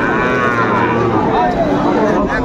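A Sahiwal bull at a cattle market lets out one long, loud, close moo that holds steady and then bends in pitch, with faint crowd noise underneath.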